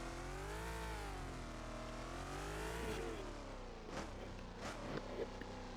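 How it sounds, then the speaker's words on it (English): A car engine in a Roblox driving game revs and holds a steady droning tone, pitch rising and dipping smoothly, then sharper bursts near the end, all moderately faint. "That's where you get your good car sounds."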